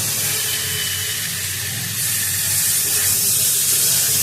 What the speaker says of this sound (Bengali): খুব ভালো করে একটু কষাবো রসুন আর আদার কাঁচা গন্ধটা চলে যাবে